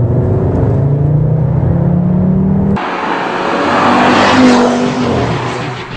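An Audi RS3's engine revs hard, a loud rising growl that climbs steadily, then breaks into a sharper, brighter roar with a further rising pitch before easing slightly; no talking.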